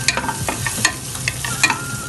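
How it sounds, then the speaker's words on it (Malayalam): Chopped ginger is stirred in hot fat in a pan while cooking fried rice, making a close, lively sizzle broken by quick, repeated spatula scrapes and clinks every fraction of a second. "അതിലേക്ക് കുഞ്ഞായിട്ട് കട്ട് ചെയ്ത് വെച്ചേക്കുന്ന ഇഞ്ചിയും കൂടെ ഇട്ട് ഒന്ന് ഇളക്കിയെടുക്കാം."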